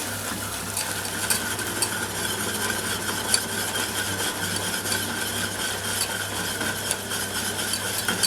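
Butter stirred in a pan while cupcake frosting is being made, a steady soft scraping and faint sizzle beneath a constant background hum, with small clinks scattered throughout.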